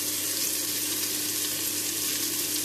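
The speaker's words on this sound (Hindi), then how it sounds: "फिर इसमें वही कटी हुई लहसुन और अदरक को डाल देंगे एक साथ।" Chopped garlic and ginger sizzle steadily in hot oil in a pan while cooking a jackfruit curry, a close, dense and continuous frying crackle with no voices.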